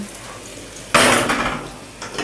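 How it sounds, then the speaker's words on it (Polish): A burst of loud sizzling erupts suddenly as doughnuts hit hot oil, crackling steadily and fading slightly, with a faint clink near the end. "Tak się smażą nasze pączuszki."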